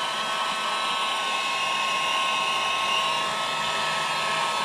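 A heat gun blows hot air onto car undercoating, giving a steady, close whooshing roar that holds unchanged throughout with no talking.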